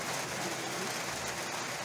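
Steady rain falls on a thatched hut (saung) beside a river with warm springs, a dense continuous hiss with no distinct drops or voices.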